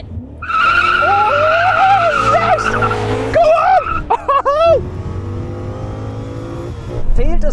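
BMW M5 cars launch side by side in a drag race, tires skidding and squealing loudly over revving engines, then the roar fades into the distance.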